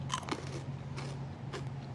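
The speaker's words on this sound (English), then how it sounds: "That's me crunching a crouton because they're so good." Crunchy keto croutons are bitten and chewed up close, a sequence of about four dry, crackling crunches spaced roughly half a second apart over a low steady background hum.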